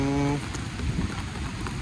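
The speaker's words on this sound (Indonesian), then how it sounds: "Kondisinya hujan lebat" Heavy rain pours steadily in Lumajang during a flood, a dense close hiss of falling water that continues throughout, with a short engine-like tone at the start.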